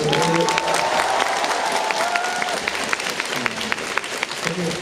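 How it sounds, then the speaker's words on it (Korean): Dense, loud audience applause fills a live stage event, holding steady for several seconds while voices talk over it. "정말 슈이슈이 박수 보내주세요."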